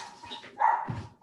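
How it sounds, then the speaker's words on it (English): A dog gives a single muffled bark, faint and brief, in a quiet room during a city council meeting. "He doesn't like barking or knocking at the door."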